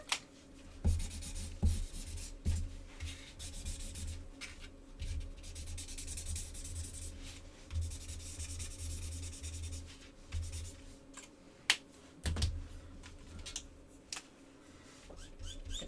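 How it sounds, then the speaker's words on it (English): Felt-tip markers squeak and rub across paper while fantasy art is drawn for a craft-stamp project, a long stretch of close, quiet scratchy strokes with occasional sharper squeaks. "Very squeaky, these markers."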